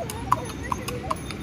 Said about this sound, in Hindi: देखिए घोड़ा जा रहा है